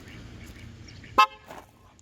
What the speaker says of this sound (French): J'ai la possibilité de mettre en place un klaxon